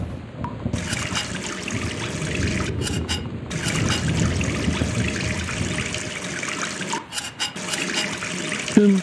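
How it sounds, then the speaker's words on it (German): A faucet runs in the video game Gone Home, a steady close splash and trickle of water that continues for several seconds with brief breaks and clicks, no voices. "Warum musst du das Wasser laufen?"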